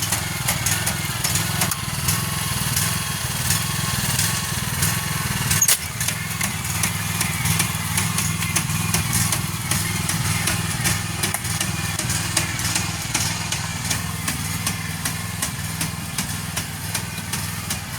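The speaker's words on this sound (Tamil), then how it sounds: "இப்போ மிஷின் நின்று கொண்டு நடுது மிஷின் ஓட வலிக்கிட்டா தான் நட்டு கொண்டு போகும்" A rice transplanter engine runs steadily while planting paddy seedlings in a village field, a continuous mid-pitched motor drone with a faint rhythmic chatter, close and unbroken throughout.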